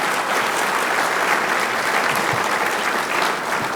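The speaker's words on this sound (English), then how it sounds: "So I would give all of them a round of applause" Sustained, dense applause from a large audience at a state of the city presentation, a steady wash of clapping for the tree committee that holds at an even, loud level throughout with no voices over it.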